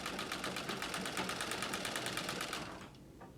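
A White Rotary treadle sewing machine runs through free-motion quilting with a rapid, steady stitching patter, close and clear, winding down and stopping just before the end.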